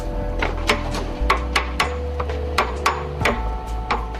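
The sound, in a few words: carving a wooden pillar to fit its foundation stone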